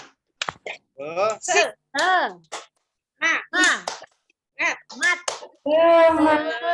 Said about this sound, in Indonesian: Bareng-bareng kita tepuk semangat.